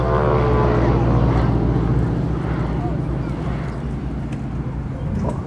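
A T-6 Texan propeller aircraft dives at a military airshow, its engine drone loud and steady over crowd noise, with an announcer speaking over the sound.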